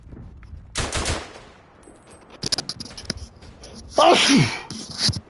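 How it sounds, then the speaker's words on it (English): A single sharp sneeze bursts out near the mic, surrounded by scattered outdoor noises and brief rustling. "Oh, excuse me. I had to sneeze."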